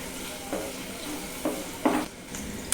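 Garlic and green chili sautéing in a pan, with a soft continuous sizzle and a few separate spatula scrapes, close by and moderately quiet.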